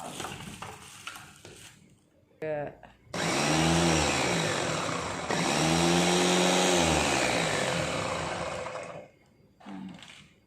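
A small single-speed Signora electric food chopper whirs loudly in bursts, a short spin then two long continuous runs, with brief quieter gaps and some clatter.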